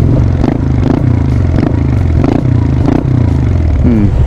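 A Honda Click 125 scooter with a replica aftermarket exhaust pipe revs repeatedly in rhythmic bursts over a loud, rough low rumble, with some clattering mixed in, close by.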